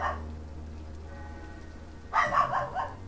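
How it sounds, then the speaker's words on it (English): A dog barks in a short burst of a few yelps near the end, over a steady low background hum in a quiet night-time game scene. "Miko has decided she wanted to bark."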